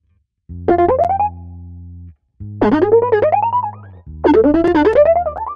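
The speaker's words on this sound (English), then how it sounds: "once we turn on the arpeggiator" Distorted Roland synth bass with the arpeggiator on plays three arpeggiated phrases, each a rapid run of rising notes over a droning low chord, loud and up front.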